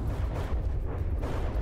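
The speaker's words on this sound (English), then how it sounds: "Ooh, small cannons even." Rapid low booming small-cannon fire in the video game From the Depths, a dense continuous barrage of thuds rumbling steadily throughout.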